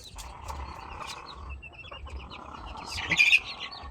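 A chicken clucks and bawks in short bursts close by, with faint bird chirps and a louder squawk near the end.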